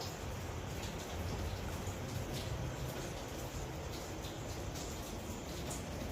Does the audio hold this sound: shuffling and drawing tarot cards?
no